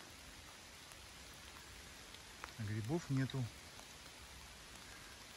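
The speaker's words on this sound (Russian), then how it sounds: "Дождь льет." Steady rain patters softly and evenly through a forest while mushroom hunting, with someone briefly speaking a few words in Russian midway.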